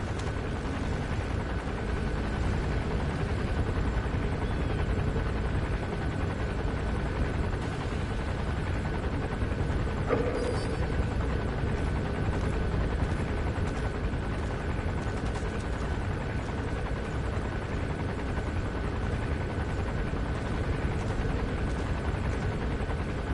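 A helicopter comes in to land in Metal Gear Solid V, its rotor thrumming steadily and loudly for over twenty seconds, with a brief sharp knock partway through and no talk.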